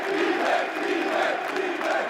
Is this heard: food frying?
no